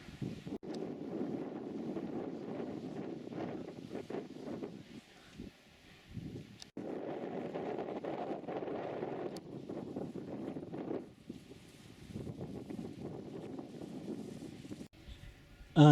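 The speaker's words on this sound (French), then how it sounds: "Un vent salvateur s'est levé et fait baisser sensiblement la température." Wind buffets the microphone in rough, rumbling gusts on a street in Metz, France, rising and dropping over several seconds, with brief calmer gaps between.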